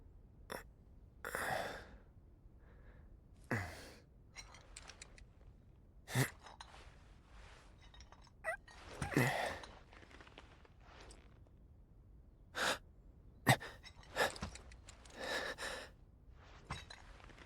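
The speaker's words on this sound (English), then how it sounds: "The sounds of breathing further add to this confusion" In the Final Fantasy 7 Rebirth video game, a character breathes in soft, uneven sighs and gasps, with quiet gaps between the breaths and faint footstep-like shuffles in the background.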